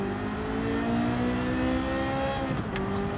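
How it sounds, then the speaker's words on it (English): Steady engine drone of a GTO race car in Gran Turismo 7, held at a constant pitch with a slight shift near the end, loud and alone with no talk. "I'm going in the GTO. I just love the sound of this car"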